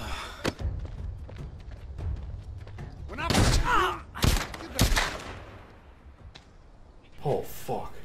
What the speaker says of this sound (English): so no one heard all those gunshots